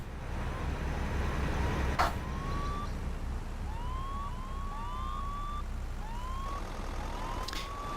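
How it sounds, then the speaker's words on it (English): Several short rising police siren whoops at low volume in TruckersMP, at a crash scene, repeat over a steady low rumble of ambience, with a couple of sharp clicks in between. "That's why you always have your sirens on low volume"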